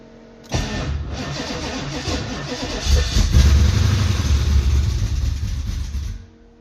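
Old car left in a barn for over ten years cranks and fires up, then runs as a loud, rough, uneven idle that swells midway before cutting off.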